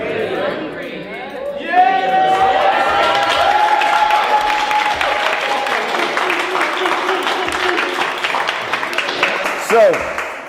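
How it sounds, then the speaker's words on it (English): An audience at a show breaks into clapping and excited cheering, with a crowd roaring and chattering loudly throughout, rising and swelling near the end. "everyone slowly started to clap and freak out"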